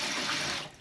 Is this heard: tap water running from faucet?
yes